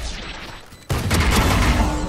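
Gunfire in the Valorant first-person shooter game: after a quieter stretch, a sudden loud burst of rapid shots erupts and continues as sustained dense firing to the end.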